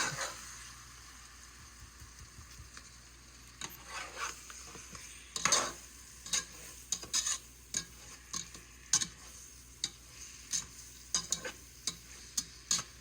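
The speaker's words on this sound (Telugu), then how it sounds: "ఇది బాగా ఫ్రై చేసుకోవాలి." Marinated chicken frying with tomatoes in a pot for biryani, a soft low sizzle under repeated sharp spoon-on-pot stirring clacks in an uneven rhythm, close by, with no talking.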